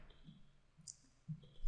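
A couple of faint, quick computer mouse clicks at a desk, soft and isolated against quiet room tone with no talking.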